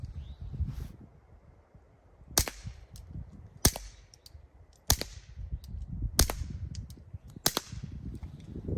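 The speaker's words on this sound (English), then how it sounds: "The gun is such a great suppressor host that both of those are really quiet" Five suppressed shots from a Walther PPK/S pistol firing Fiocchi ammunition, sharp but fairly quiet cracks spaced about a second apart over a low outdoor background.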